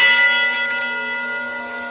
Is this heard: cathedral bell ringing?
yes